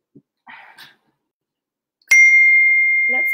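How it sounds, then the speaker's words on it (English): A phone chimes with a text message notification, a single bright ding that rings on and slowly fades, following a few faint short sounds in an otherwise quiet room. "That's so funny because Sky just texted me"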